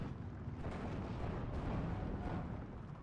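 Tank cannon fire in the Steel Division 2 wartime strategy game: a dense, continuous rumble of booming distant shots and blasts, steady and unbroken with no voices.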